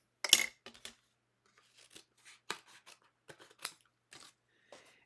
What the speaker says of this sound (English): I'm going to cut out the Happy Father's Day like this. So let me grab a pair of scissors here.